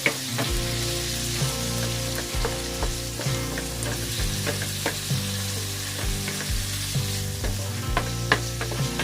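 Sliced pork strips sizzle steadily in a hot pan while being stirred, with repeated scraping and clinking strokes of the utensil against the pan throughout, loud and close with no talking.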